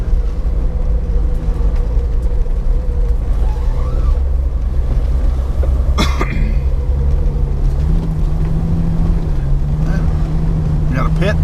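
An off-road vehicle engine drones loudly on the Pine Tree Trail, holding a steady low rumble that shifts pitch as it upshifts through gears, with a sharp clank midway and faint voices nearby.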